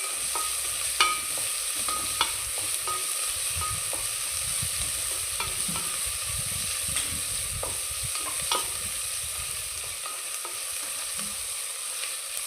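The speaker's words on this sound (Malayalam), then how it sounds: "ഇട്ടിട്ട് നമ്മൾ ഇളക്കുക. എന്നിട്ട് അതിൽ സവാള" Onions fry with cumin seeds in a pan, a steady close hiss carrying irregular light scrapes and clicks of stirring throughout, with no voices.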